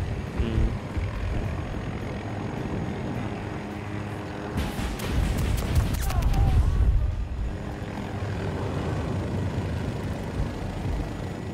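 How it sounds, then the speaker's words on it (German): A transport helicopter in the Battlefield 2042 video game drones overhead with a continuous rumbling engine and rotor roar that swells in the middle. It is mixed with game combat noise. "Transport-Heli fliegt jetzt zu."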